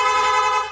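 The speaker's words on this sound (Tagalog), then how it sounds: "Nag-install din tayo ng rapid horn." A single loud, sustained electric rapid horn blast from a Yamaha Sniper 155 motorcycle, close and harsh, lasting under a second.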